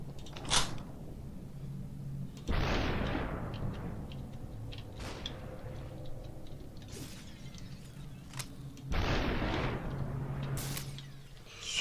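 Gunshots in the video game SuperHot: a few sharp, heavy bangs spaced seconds apart, each followed by a rumbling tail, with faint mechanical clicks and thuds in between.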